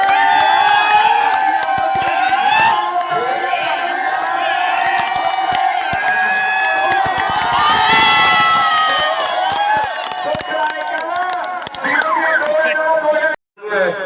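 A crowd at a village kabaddi final roars and cheers loudly and continuously, with shouts and whoops, while a commentator's amplified voice talks over the noise throughout.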